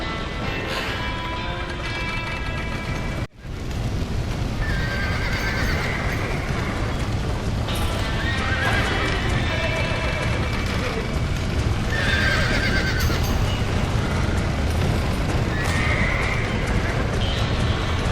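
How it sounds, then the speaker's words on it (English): Several horses in Red Dead Redemption neigh and whinny repeatedly over a constant clatter of hooves and a busy, rumbling background, with a brief dropout early on. "Now get the horses out!"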